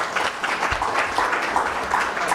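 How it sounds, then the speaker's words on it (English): Conference audience applauding panelists at the close of a panel discussion: steady, dense clapping from a crowd, moderately loud and sustained throughout. "A round of applause to our panelists."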